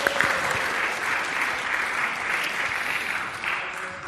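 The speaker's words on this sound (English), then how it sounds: "That deserves a round of applause, actually." Audience applause after a talk on the significance of numbers, a dense, even wash of many hands clapping at moderate distance, sustained for several seconds.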